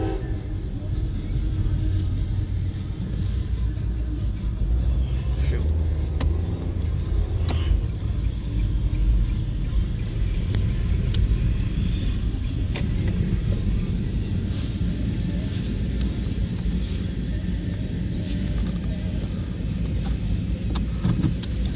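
A CSX manifest freight train rolls past, a loud, steady low rumble and roar of wheels and cars lasting the whole stretch without letting up.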